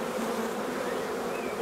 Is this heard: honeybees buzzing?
yes